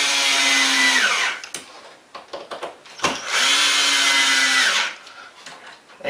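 A power drill drives the four screws back into the ozone tunnel of a Bio3Blaster 14000 mg/h ozone generator, with two sustained whirring bursts split by a pause of small clicks and handling noise. The drill is close and loud, and nobody speaks.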